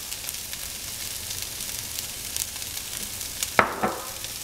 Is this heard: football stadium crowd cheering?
no